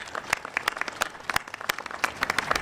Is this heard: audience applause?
yes